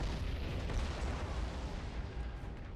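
Torpedoes strike Imperial Navy ships in the space battle game Battlefleet Gothic Armada 2, producing a continuous, dense rumble of booming explosions that barely lets up.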